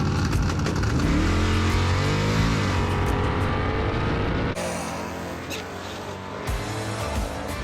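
An old Chevrolet Malibu drag car weighing about 3,800 pounds launches hard down the drag strip, its engine roaring loudly and rising through the revs, then briefly dropping as it shifts before pulling again.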